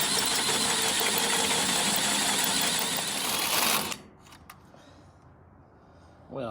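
A drill boring a hole through a 3/16 steel boxing plate for a fuel line bulkhead gives a loud, steady whine for about four seconds, then stops, leaving faint handling noises.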